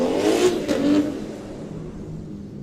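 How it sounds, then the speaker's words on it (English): Drift cars at a Superdrift event rev hard and roar past, a loud, close engine wail that swells in the first second then eases into a steady fading drone. "So we got some more festival cars coming through"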